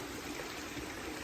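A small stream of water flows steadily through a quiet estate in Madikeri, a soft, continuous trickling wash that stays faint and even throughout, with no voices over it.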